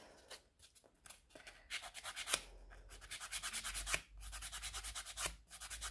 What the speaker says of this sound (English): this one is going to need quite a bit of filing.